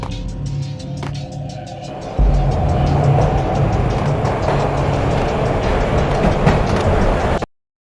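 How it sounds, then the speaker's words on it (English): A moving train in the 2001 video game Max Payne gives a quiet rhythmic clatter at first, then a sudden jump to a loud, steady rumbling roar with rail noise, which cuts off abruptly at the end. "This was my second train ride of the night"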